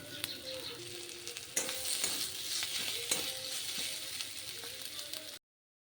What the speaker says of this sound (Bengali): তো এটা পেঁয়াজ লঙ্কা কুচি দিয়ে একটু ফ্রাই করে দিচ্ছি